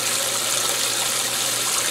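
Water pours steadily into the tub of a GE Infusor GTWN5050M0WS high-efficiency washing machine as it fills, a constant close rushing hiss with no pauses and no voices.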